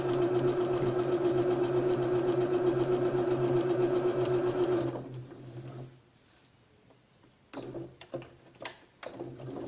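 A Janome 2030QDC sewing machine sews a straight seam with a close, rapid whirring run for about five seconds, then stops, leaving several scattered clicks and handling noises.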